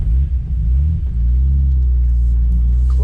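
Z32 project car with a swapped RB engine drives along, a deep, steady exhaust rumble dominating close up with a brief dip early on, no voices.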